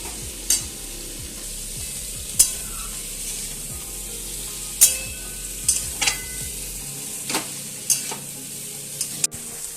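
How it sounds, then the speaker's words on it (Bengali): Cauliflower stalks being stirred into a fish oil curry in a pan: continuous sizzling under repeated spatula scrapes and clinks against the pan, close and moderately loud, with a low hum fading partway through. "এবারে এর মধ্যে আমি ওই ফুলকপির ডাঁটাগুলো আমি সব ঢেলে দিলাম, দিয়ে এবারে এটাকে ভালো করে মিশিয়ে নেব।"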